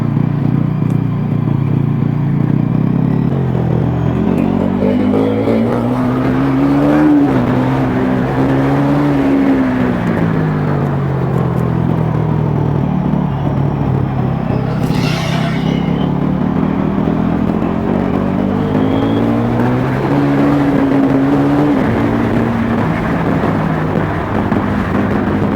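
A Bajaj Pulsar NS400Z motorcycle being ridden, its loud, continuous engine drone rising and falling with the throttle under a steady rush of wind.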